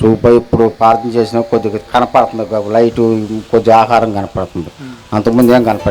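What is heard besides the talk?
None of the usual background noises is heard.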